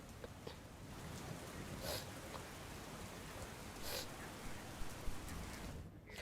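Steady, even rain hiss fills the scene continuously, with a few faint taps and brief louder patches; light, continuous early-morning rain in Patan, Gujarat; no voices.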